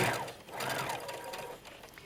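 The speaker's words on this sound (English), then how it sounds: "after you've sewn each of those scallops" A sewing machine hums quietly, stitching Dresden applique scallops in a steady, fairly faint run with brief slowdowns.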